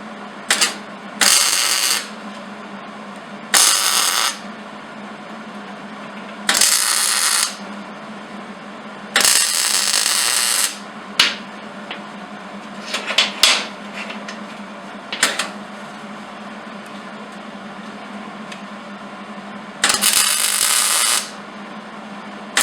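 Tack welds fix the pieces of a blacksmith's forged-leaf jig, each one a short, loud crackling burst. About eight bursts are separated by pauses, with faint metallic clinks and handling noises between them.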